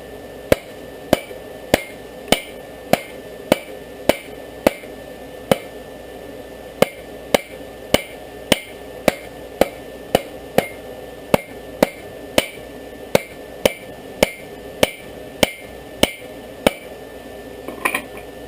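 Hammer forging rebar into a knife in a backyard blacksmith setup, sharp metallic strikes on the anvil falling in a steady rhythm of roughly two blows per second, about thirty ringing hits, close and loud.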